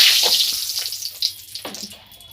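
Hot oil hissing in a pan after a pinch of salt goes in, ready for frying katla fish; a bright, steady sizzle up close that slowly fades, with a few soft crackles and clinks.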